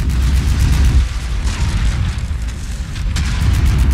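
An ammunition explosion in the MechWarrior 5: Mercenaries video game makes a loud, sustained rumbling boom with a continuous roar throughout and flickers of crackle, with no speech.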